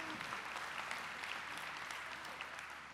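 Dense, distant applause from a fundraiser audience at a hospice charity event, a steady wash of clapping hands sustained evenly throughout, faint and uninterrupted.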